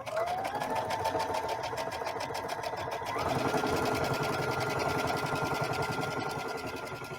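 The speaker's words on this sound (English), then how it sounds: "Let's do a couple more stitches." A sewing machine stitches a vinyl iron-on placemat in a steady rapid mechanical chatter. It pauses briefly and then runs again slightly louder, close by and with no talk over it.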